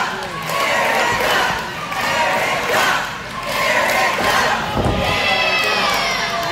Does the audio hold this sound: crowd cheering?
yes